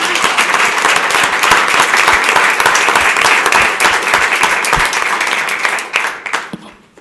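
Audience applause with cheering at a town council meeting honoring the Fountain Hills High School girls varsity soccer and basketball state championship teams, a dense steady roar of clapping that holds loud for several seconds, then tapers off at the end.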